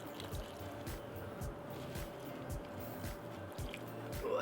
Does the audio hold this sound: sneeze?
no